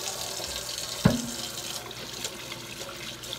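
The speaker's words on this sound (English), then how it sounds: "So now we're gonna wash my hands" Kitchen tap water runs steadily into a sink while hands are washed during cooking, a soft continuous splash with one sharp knock early on.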